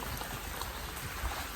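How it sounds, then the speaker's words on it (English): Steady rain falling outdoors, a dense, even hiss of drops on surfaces that stays constant throughout, fairly close and with no voices over it. "I did not know it was gonna rain today."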